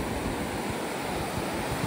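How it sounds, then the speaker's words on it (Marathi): Sea waves at high tide on Ladghar beach in Dapoli, a continuous broad roaring wash of surf mixed with wind buffeting the microphone, steady and loud with no talk. "आणि आता समुद्राला भरती आहे, त्यामुळे पाणी वरती आलेलं आहे।"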